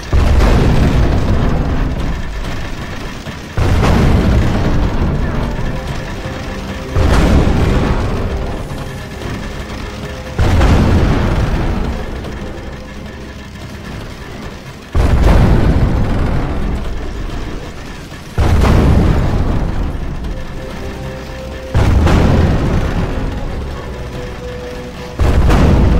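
Catapults in Medieval II Total War fire in a steady series of about eight heavy booming launches, each a loud broadband thump that decays slowly into rumbling battlefield noise during a siege of a town gate.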